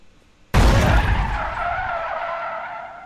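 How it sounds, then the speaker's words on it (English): A police car rams the player's car in a video game with a sudden, sharp, loud crash, followed by a long, harsh tire skid that slowly fades. "the negative hit where you get hit by the police is sharper and more intense"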